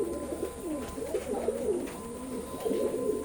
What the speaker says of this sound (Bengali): স্ক্রিনে এখন যে কবুতর দুইটা দেখতে পাচ্ছেন, এইটাও 128-এর নিউ অ্যাডাল্ট কবুতর